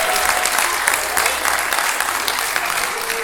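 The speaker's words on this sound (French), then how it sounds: "Donnez-vous une bonne main d'applaudissement." Audience at a family celebration giving a hearty round of applause, dense continuous clapping from many hands that stays loud throughout, with a few voices mixed in.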